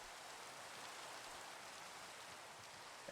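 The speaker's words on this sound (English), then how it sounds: "You can see it's raining" Rain falls in Minecraft with a shader pack, a soft, even hiss of steady downpour, faint and continuous with no distinct drops or voices.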